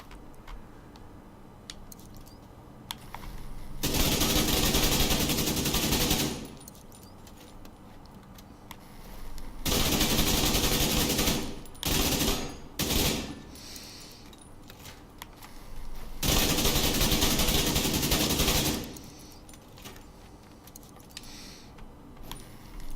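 Assault rifle fire in the shooter game Division 2 comes in three long sustained bursts of dense automatic shots, with a couple of short bursts and quiet gaps between them.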